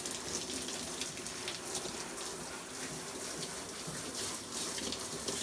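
Water sprays steadily from a shower in a basement while slime is rinsed off a dipped item, a constant close hissing rush with no talk.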